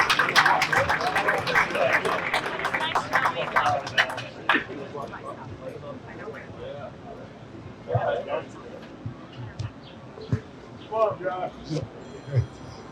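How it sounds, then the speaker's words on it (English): Applause from a crowd at a jersey retirement and hall of fame event, strong clapping at first that thins into scattered claps and voices, with someone talking through the later part. "Let's give him a big round of applause."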